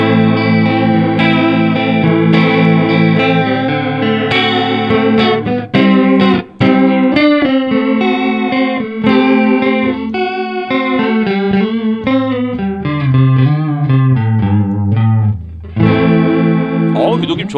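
Electric guitar run through a Mad Professor Electric Blue Chorus pedal set for a floating vibe tone, giving a steady, loud, swirling chorused sound to chords and melodic lines that play continuously with a few brief gaps.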